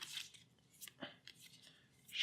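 Playing cards for a Buffy the Vampire Slayer deck-building card game are shuffled up close, a quick run of crisp, faint riffling snaps and flicks with no voices.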